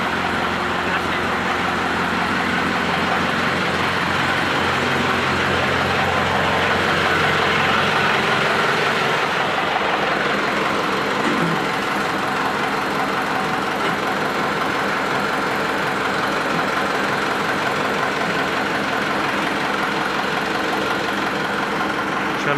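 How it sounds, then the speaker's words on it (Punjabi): A heavy diesel tractor engine idles steadily throughout, a constant low rumble with a slight knocking pulse, loud and near. "ਉਹ ਟਰੈਕਟਰ ਕਰ ਲਿਆ ਸਟਾਰਟ ਆਪਾਂ"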